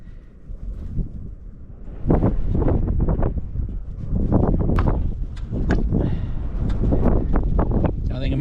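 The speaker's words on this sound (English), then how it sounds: "I think it might be too windy, guys." Gusty wind buffets the microphone outdoors, a steady loud rumble that swells and roars in bursts.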